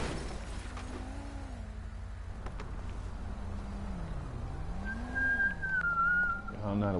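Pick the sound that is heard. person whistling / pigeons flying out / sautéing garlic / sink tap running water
person whistling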